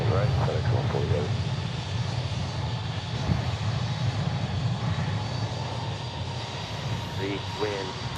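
FedEx jet at Memphis International Airport, a continuous low engine rumble with a steady hiss over it, fairly distant, with brief bursts of radio chatter near the start and end.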